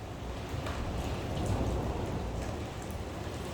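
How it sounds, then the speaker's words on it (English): Heavy rain pours down steadily, a dense, loud, continuous wash of drops with no let-up and no voices. "Wow, it is pouring down"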